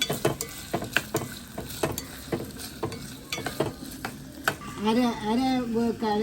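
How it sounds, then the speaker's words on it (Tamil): Onions and green chillies frying in a pan for a Tamil-style curry side dish, with steady close sizzling broken by repeated sharp stirring scrapes and clatters; a voice briefly speaks over the cooking near the end. "வெங்காயம் பச்சை மிளகாய் போடுங்க. கொஞ்சம் பொன்னிறமாக வரட்டும்."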